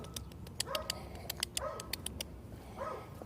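A dog barks a few times at a distance on a city street in South Park, Seattle, with sharp ticking or clicking sounds running through the background.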